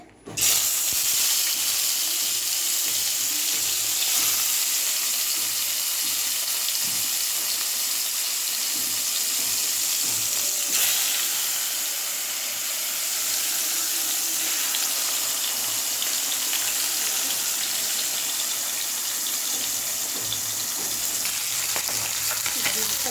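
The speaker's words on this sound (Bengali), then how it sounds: "এই যে মাছ ভাজা হয়েছে, নামিয়ে দিয়েছি।" Four pieces of fish fry in hot oil, giving a loud, steady, close hiss and crackle that carries on without a break, with a faint clink of stirring now and then.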